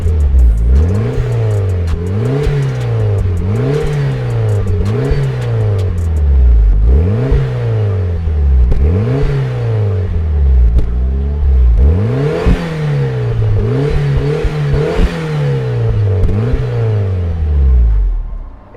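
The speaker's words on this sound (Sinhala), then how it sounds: "හැබැයි අපි වාහන exhaust note එක මොන වගේද කියලා බලමු." A Mitsubishi Lancer Evolution IV revs its engine repeatedly, loud and close, each sharp rise in exhaust note falling away in a steady rhythm of blips for many seconds, with no voices.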